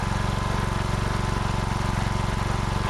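Lawn mower engine running almost on choke, a loud close steady throb with a fast, even pulse and no pauses.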